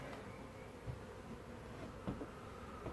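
Honey bees hum steadily inside an observation hive, a dense continuous buzz with a few louder close passes, with no talking.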